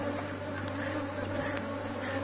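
Honey bees in a hive box, a colony with brood whose comb had been built crooked and corrected, fill the air with a steady, dense, close drone that holds without a break throughout.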